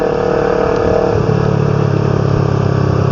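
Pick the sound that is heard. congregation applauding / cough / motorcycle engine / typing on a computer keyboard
motorcycle engine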